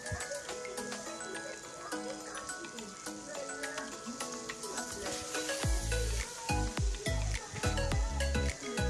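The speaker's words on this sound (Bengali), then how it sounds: "তো একটু লবণ হলুদ দিয়ে মা ভালো করে ভেজে নেবে।" Boiled potatoes fry in a pan with salt and turmeric, giving a steady sizzle with clinks of stirring that grow louder and heavier in the second half, while someone talks over it.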